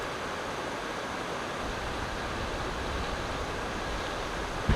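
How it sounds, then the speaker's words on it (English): The Monongahela River rushes steadily beside a forested cycling trail, a dense, unbroken roar of flowing water at constant loudness with no voices. "the river starts making a lot more noise"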